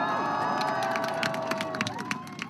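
A large crowd of thousands gathered outside St James's Palace for the proclamation of the new king, a steady broad murmur with scattered shouts and bursts of cheering rising through the clip.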